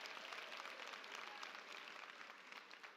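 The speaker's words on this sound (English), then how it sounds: "I think we need a round of applause." A crowd at a UNISA graduation ceremony delivers a continuous round of applause, many hands clapping together in an even, hissing roar that holds steady for a few seconds before easing slightly.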